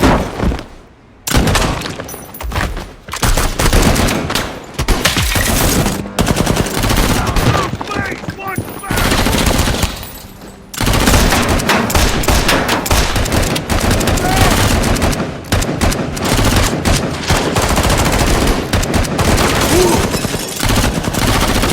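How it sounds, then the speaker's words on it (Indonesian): Dense, loud gunfire from a gangster-and-police shootout in an action film, rapid automatic bursts and single shots almost continuous over twenty seconds, with crashes and breaking debris mixed in and only brief pauses. "kelompok mereka sudah dikepung oleh para polisi hingga terjadilah baku tembak yang mengerikan"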